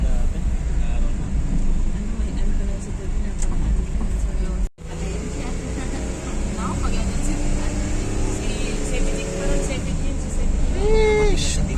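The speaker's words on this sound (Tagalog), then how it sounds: "I mean, maganda yung tunog ng makina." A vehicle engine hums steadily throughout a road ride in Masbate, a continuous close drone with brief dropout midway, while people talk over it.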